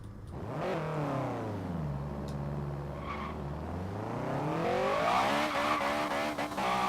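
A car in Forza Horizon 3 spins its wheels while accelerating, the engine revving down and then climbing steadily in pitch as the tires squeal, loud and continuous with no talk.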